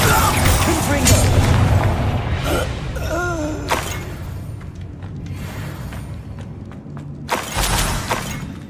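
Confringo fire spell blasting in Hogwarts Legacy, a loud booming burst amid ongoing combat noise, with further impact bursts later and a voice briefly heard.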